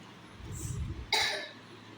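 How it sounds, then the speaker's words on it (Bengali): A child choking while eating gives one sharp, close cough after a short muffled throat sound, then quiet. "বিষম গেছো তুমি"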